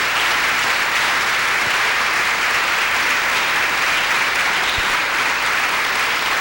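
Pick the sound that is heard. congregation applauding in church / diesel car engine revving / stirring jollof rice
congregation applauding in church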